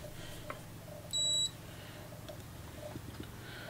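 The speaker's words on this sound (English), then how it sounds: "Just check continuity, that's all." A multimeter gives a single clear, steady electronic continuity beep lasting about a third of a second, heard once against a quiet room hum.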